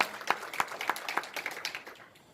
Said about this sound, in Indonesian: Tepuk tangan dong yang keras buat Yesus kita.